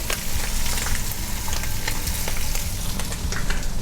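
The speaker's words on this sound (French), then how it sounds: "Donc, on veut le saisir, en fait." Pork liver sears in a hot frying pan, giving a loud, steady sizzle and crackle with scattered sharper pops throughout and no voices.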